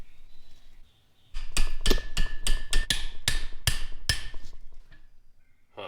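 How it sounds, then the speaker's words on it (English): After a quiet start, a series of sharp hammer blows drive bread into a Mazda RX-7 engine shaft bore, striking metal in an uneven rhythm, about a dozen close, ringing knocks, then fading off. "you just hammer bread into it, and then it like presses it out"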